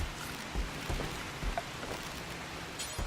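Steady rain from the video game Rimworld forms a soft, even wash of droplet noise. A few faint low thumps and a brief brighter patter near the end sit within it, with no voices.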